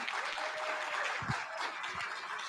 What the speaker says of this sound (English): everybody give a round of applause to the Attorney General